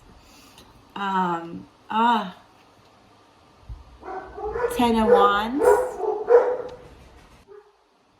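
Dogs barking in a home, a couple of sharp barks followed by a longer stretch of whining yips and barks, close and loud, with a person speaking briefly.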